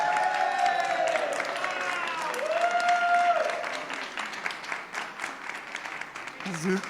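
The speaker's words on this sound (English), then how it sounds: "So if I get a round of applause for Karina Martinez" Audience applause for Karina Martinez at a leadership institute demo day, a steady wash of clapping over several seconds while a voice carries on speaking over it.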